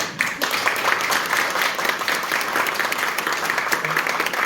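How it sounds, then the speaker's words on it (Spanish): An audience at a panel session on historical and cultural heritage and numismatics breaks into sustained applause, an even, dense clapping that holds steady throughout. "pido otro voto de aplauso"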